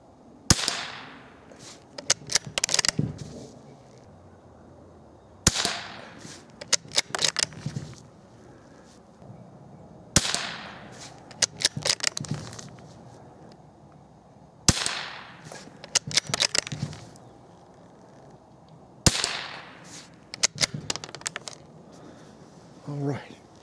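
Remington CBEE .22 low-noise rifle rounds fired in five separate sharp cracks, each followed by a short burst of clicks and handling noise, evenly spaced about five seconds apart, with a voice speaking in between.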